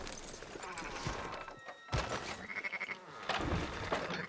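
Sheep bleat several times amid a busy, noisy backdrop in the video game Red Dead Redemption II, with occasional thuds and clatter, fairly loud and close.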